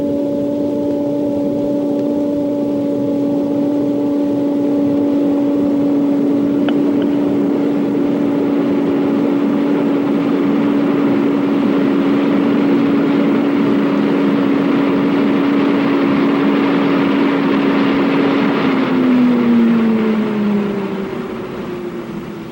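Wind tunnel airflow steadily rising to about 150 mph, a loud continuous roar with a sustained whining drone that holds for a long stretch, then slides downward in pitch near the end.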